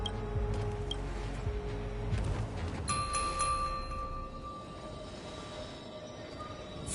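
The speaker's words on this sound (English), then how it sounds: "We could try ringing the harmonic chime." A harmonic chime rings in Honkai: Star Rail, sustained bell-like tones entering partway through and holding steady over a low rumbling game ambience.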